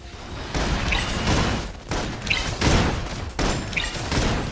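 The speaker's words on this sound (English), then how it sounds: "Requesting full suppression gunfire." Sustained bursts of suppressive gunfire from the video game Love and Deepspace arrive in three loud rattling volleys separated by brief gaps, with no talk.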